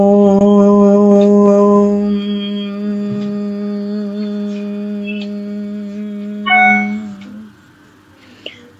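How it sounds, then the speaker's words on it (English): A single voice chants a long, sustained Om, a steady droning tone that closes into a humming nasal ending before fading. "So it has to be chanted like Om."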